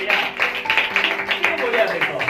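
A church congregation claps along during a Christian worship service: a run of rhythmic, overlapping hand claps, fairly close, mixed with voices talking and singing.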